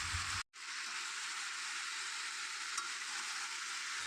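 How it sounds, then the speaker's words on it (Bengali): Potatoes and onions with salt, turmeric and chili frying in oil in a home kitchen, a steady close hiss and sizzle after a brief silent cut, with an occasional faint clink. "আর এখন করছি আলু পেঁয়াজ ভাজা।"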